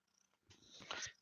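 A cat purrs briefly, a faint, close, rough rumbling sound that swells for under a second after a near-silent start.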